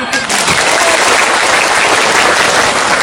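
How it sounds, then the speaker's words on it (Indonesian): Audience at a sholawat halal bi halal gathering applauding, a dense, loud wash of clapping that starts right away and holds steady throughout, with no letup. "Tepuk tangan semuanya."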